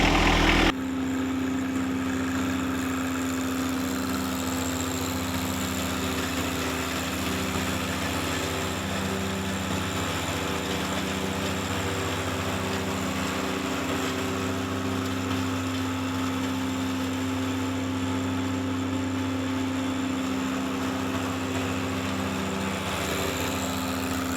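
A leaf vacuum's small engine runs steadily at a constant drone while passing over acorns, loud and unbroken for the whole stretch with no talking.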